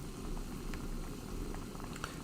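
Pasta simmers in a pot of water for cacio e pepe, a close, steady bubbling hiss with small pops throughout.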